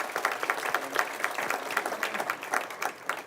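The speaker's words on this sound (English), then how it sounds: "This is my applause for you." A speaker at a Chamber of Commerce awards dinner claps for the room, a quick, even run of close hand claps over a soft background of crowd noise.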